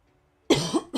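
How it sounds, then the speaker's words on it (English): A single sharp cough followed by a second shorter one, close and loud against near silence, from a man streaming a flight simulator session. "I didn't get a chance to hit my mute button when I cough."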